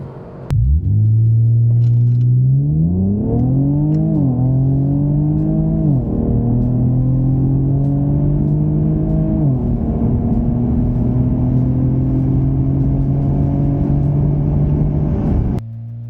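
Two cars, a 2023 Lexus LC500 and an Infiniti Q60 Red Sport, launch in a drag race with loud, close engines revving hard. The engines climb through several upshifts and then hold a steady high drone until an abrupt cut.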